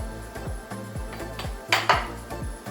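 Knife chopping through a home-grown green pepper (capsicum) on a board, a steady series of close, crisp knocks roughly every quarter second, with a couple of louder clacks partway through, alone.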